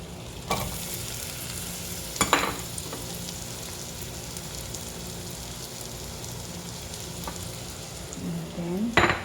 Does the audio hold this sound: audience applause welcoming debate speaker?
no